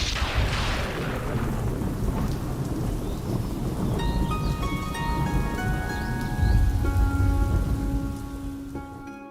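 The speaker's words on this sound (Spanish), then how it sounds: "Llueve." Steady rain falls in a thunderstorm, with low rumbles of thunder running beneath a dense, continuous hiss that grows slightly heavier toward the end; a faint tonal hum appears in the background during the later part.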